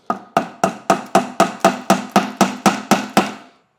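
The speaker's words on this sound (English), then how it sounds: "you want to use a rubber mallet, not a regular hammer, but this is demonstration purposes" A regular hammer taps wooden dowels into drilled holes in a woodworking joint, thirteen sharp, evenly spaced strikes close up, each with a brief ringing decay.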